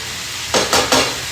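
A spoon stirs drained, rinsed canned black beans in a skillet for a one-pan Mexican dish, giving three quick scraping strokes over a faint background hiss.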